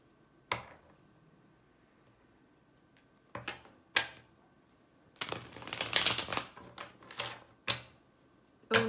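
Tarot cards being shuffled and handled, a few sharp slaps and flicks followed by a longer riffling burst midway, then more scattered taps; close and fairly quiet, with no talking.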